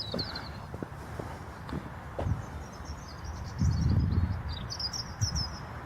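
Small birds chirp and trill repeatedly through a morning walk outdoors, mid-distance and fairly clear, over rustling footsteps and low ambient rumble.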